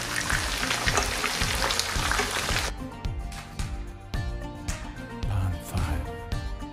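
Spicy masala fish frying in a pan, a steady crackling sizzle with scattered pops that runs throughout, loud and close at first and then a little softer after the fish is turned.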